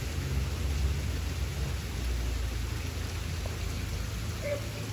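Steady heavy rain with low rolling thunder at Jaguaribara by the Castanhão reservoir in Ceará, Brazil, a dense continuous wash of falling water with deep rumbles underneath, no voices.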